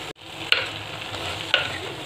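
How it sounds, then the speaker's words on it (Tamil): Drumstick and brinjal pieces are sautéed in a pan, with a steady low sizzle and two crisp scrapes of the spatula about a second apart, close and fairly quiet. "சேர்த்து இதையும் நல்லா ஒரு 2-3 நிமிஷம் நல்லா வதக்கிடுங்க."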